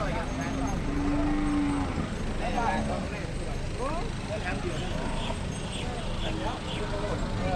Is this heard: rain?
no